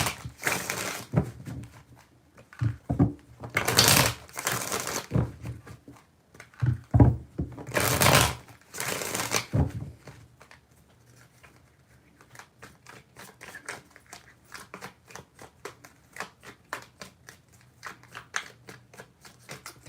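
Tarot cards shuffled by hand, with loud bursts of riffling in the first half, then a long, quieter stretch of rapid flicking card snaps, close by with no talking.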